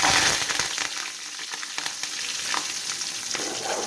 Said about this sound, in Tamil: எண்ணெய் சூடானதுமே கடுகு உளுந்தம்பருப்பு போட்டு தாளிச்சிட்டு ரெண்டு பச்சை மிளகா கொஞ்சோண்டு கருவேப்பிலை போட்டு தாளிச்சிக்கலாம்